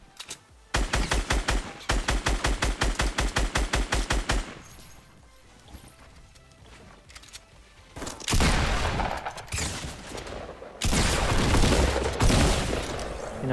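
Automatic gunfire in Fortnite Battle Royale, a rapid loud burst of evenly spaced shots followed by a quieter lull, then two dense, sustained rattling volleys.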